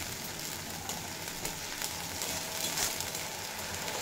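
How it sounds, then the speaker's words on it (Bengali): Spice masala frying in a pan, a soft continuous sizzle with light crackles and a few scraping or stirring knocks, quiet and steady. "দিয়ে মশলা খুব ভালোভাবে কষিয়ে নেব"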